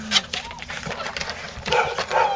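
Small puppies yelp and whimper in quick, overlapping bursts close by, with light background noise throughout.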